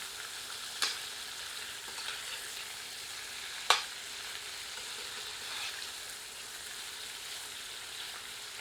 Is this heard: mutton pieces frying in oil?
yes